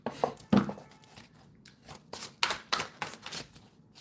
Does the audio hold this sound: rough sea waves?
no